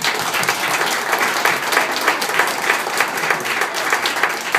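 A full round of applause fills a restaurant gathering, with many hands clapping at once in a loud, even wash of sound that holds steady from start to finish.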